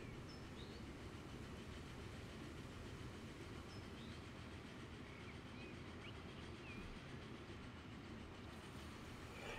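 A freight train hauling logs in the Transport Fever 2 video game rumbles steadily with continuous rolling wheel noise and faint clatter, heard faint and alone without any voices.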